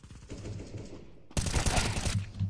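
Rapid burst of gunfire in Counter-Strike: Global Offensive during a competitive match, a dense volley of close, loud shots that rattle over about a second, after a quieter stretch of in-game noise.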